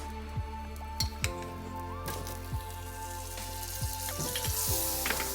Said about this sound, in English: So when your pot is like hot, we're gonna add the butter.